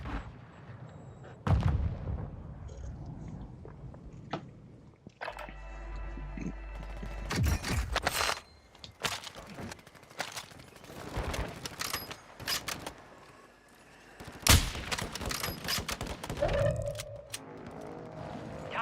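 Video game gunfire crackles in rapid bursts of sharp, loud shots, some clustered and some single, with booming impacts mixed in and occasional brief voices underneath.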